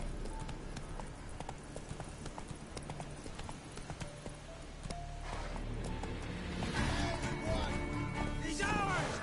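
Roach, a horse in The Witcher video game, gallops in a steady rapid clip-clop of hooves that holds throughout and grows louder and busier toward the end, with voices and game sounds layered over it.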